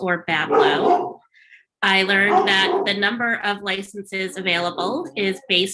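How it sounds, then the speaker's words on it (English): A large dog barks repeatedly in the background of a public hearing, its sharp barks mixed in and overlapping with someone speaking close to the microphone. "I'm sorry about the wild dog barking in the background."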